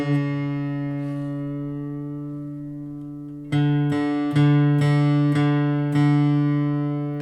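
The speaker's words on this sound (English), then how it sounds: "4th string's a little low, so I'm going to turn it up." Acoustic guitar strings plucked together and ringing, a fretted A-string note against the 4th string as it is turned up; a long sustained pair of tones, then five quick repeated plucks, close and clear with no talking.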